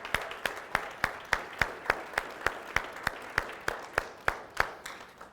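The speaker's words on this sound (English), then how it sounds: "I want to give you a round of applause" Applause at a Seacret recruiting seminar arrives as crisp, evenly spaced claps in a steady rhythm, moderately loud and fairly close, with no speech over them.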